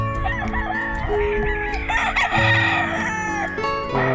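Several gamefowl roosters of gray crosses crow repeatedly and loudly on a farm in the morning, overlapping calls stacked over one another with steady background clucking and no talk.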